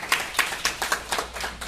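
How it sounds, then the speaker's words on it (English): A small audience claps through a round of applause for a gentleman, about seven separate distinct claps in a loose steady rhythm. The claps are nearby and fairly light, with no voices over them. "Please give this gentleman a round of applause."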